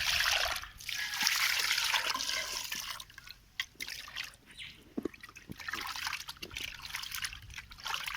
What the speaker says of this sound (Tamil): இதில் ஊற்று